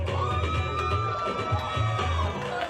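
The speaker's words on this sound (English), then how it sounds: "There's a round of applause for the boss himself" Crowd at a graduation ceremony cheering and whooping for the organiser, a dense, steady roar of voices with shouts rising throughout, loud and sustained.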